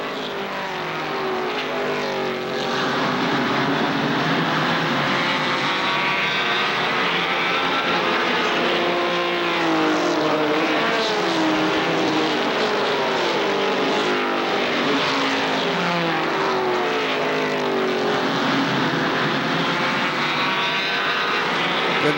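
ARCA SuperCars race cars roar around Kil Kare Speedway in 1995, a loud continuous pack of engines droning and swelling steadily as the field completes a lap, with no talk.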